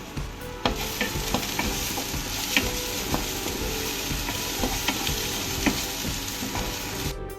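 Carrots, beans and grated coconut are stir-fried in a pan for broken-wheat upma, giving a steady close sizzle under constant scraping and stirring with light clatter, and no voices.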